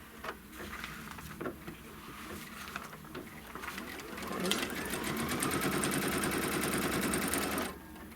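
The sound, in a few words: embroidery sewing machine stitching the trim line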